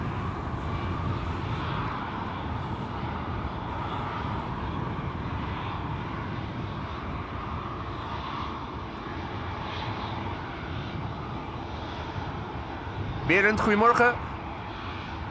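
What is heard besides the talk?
Air France Bombardier C-Series 300 jet aircraft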